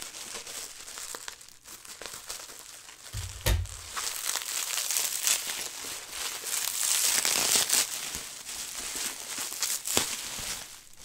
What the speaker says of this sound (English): A lot of bubble wrap.